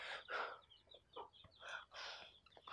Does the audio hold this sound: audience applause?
no